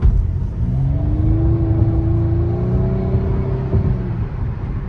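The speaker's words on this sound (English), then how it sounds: "It sounds so fucking good for a V6." A naturally aspirated 300-horsepower V6 in a Nissan Maxima, heard from inside the car with paddle shifters in manual mode, gives a loud, close, deep engine drone that climbs steadily in pitch over several seconds as it revs up, with no talking.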